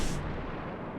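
A warship's guns fire in World of Warships: one heavy, booming blast that starts hard and rolls off into a low rumbling decay.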